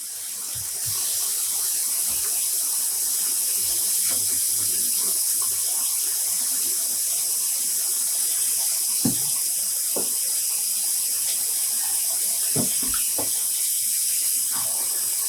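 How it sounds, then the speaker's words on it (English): Cold tap water pours steadily into a rinsing tub used for hand-dyed yarn, making a continuous close hiss and splash. A few soft knocks sound beneath it. "So we're going to start rinsing our yarn and see what we got."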